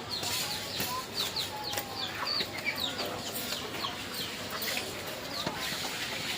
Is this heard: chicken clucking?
yes